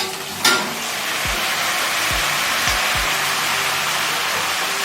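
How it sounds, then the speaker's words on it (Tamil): Tomatoes frying with light-brown onions in a pan for paneer channa masala, giving a steady, dense sizzle close by, with a few low knocks of utensils against the pan. "இப்போ தக்காளி போட்டுடலாம்."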